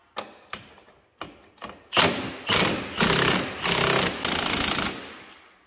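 A Milwaukee impact wrench loosens a long-seized steel bolt stuck in an aluminum block: several short hammering taps, then four sustained loud rattling bursts up close, each with a sharp start and stop.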